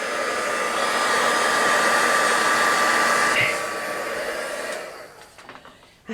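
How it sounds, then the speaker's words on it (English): Heat gun blowing hot air over a mixed media craft piece, a loud steady whirring blast lasting several seconds, then cutting off and fading into quiet with faint handling noises. "I'm just going to give it a blast with the heat gun"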